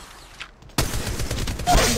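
Gunfire in the Apex Legends video game: a sudden loud onset, then a sustained rapid stream of close shots that continues to the end.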